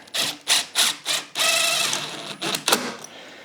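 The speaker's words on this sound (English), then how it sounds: "I'm just going to put a couple of screws right in here" Screws being driven into the mitered corners of a wooden garden planter frame with a power driver: four short, evenly spaced whirring bursts, then a longer sustained run and a couple more brief bursts, close and fairly loud.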